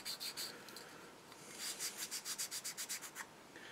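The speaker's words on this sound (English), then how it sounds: "we'll just give them a quick rub till they kind of disappear a bit." A sanding stick rubbed over small plastic parts of a Tamiya SU-76M model kit, quick rhythmic scratchy strokes in a fast run of about a dozen, soft and close, with no talking.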